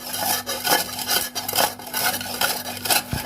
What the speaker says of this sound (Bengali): করলাটাকে আমি গ্রেট করে নেব।